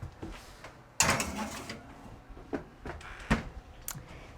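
A kitchen oven door closes with a sharp thud, followed by a few lighter knocks and clatters nearby.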